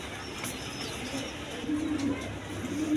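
A pair of caged black-headed buntings call with short, faint chirps and soft notes over a steady background hum.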